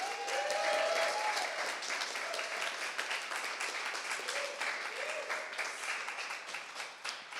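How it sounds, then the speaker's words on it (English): A crowd at a coding bootcamp demo day applauds steadily with dense clapping for several seconds while a few voices rise briefly above it. "Let's have a big round of applause for everyone."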